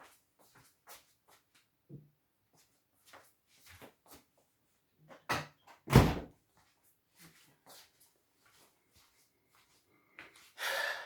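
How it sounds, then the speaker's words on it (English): A house door in Germany is opened, with scattered small clicks and handling noises, a heavier thud and rattle midway, and soft breathing between them, all close and fairly quiet. "Let me open the door for it to go out."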